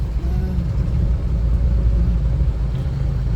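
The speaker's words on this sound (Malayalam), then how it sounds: "നമ്മുടെ വണ്ടി ഇതേ വേബ്രിഡ്ജിലേക്ക് ബ്രിഡ്ജിലേക്ക് കയറ്റുവാണ് കേട്ടോ" A vehicle drives slowly onto a weighbridge, its engine giving a steady, loud low rumble with a faint tonal hum, continuous from start to finish.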